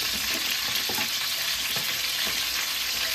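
Chopped onions sizzling in a hot pan for tomato chutney, a steady close frying crackle throughout with faint stirring.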